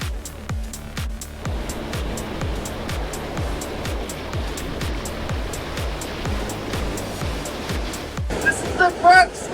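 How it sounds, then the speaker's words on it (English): Rushing whitewater of the first rapid on Norway's Alta River, a steady loud roar of surf with rhythmic thumping pulses throughout, and people talking briefly near the end. "The first rapid of the entire Alta River."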